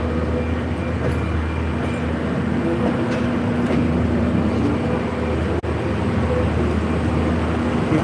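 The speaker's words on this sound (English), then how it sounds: "we've got 2 engines on such a small train." A constant loud rumble and droning engine noise of a short train pulled by two locomotives rolling past nearby in Oamaru, New Zealand, steady throughout with no pause.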